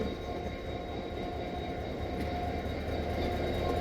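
A Pakistan Railways train pulled by an HGMU30 locomotive runs steadily, giving a loud, continuous rumble of wheels and engine with a faint high whine, no voices over it.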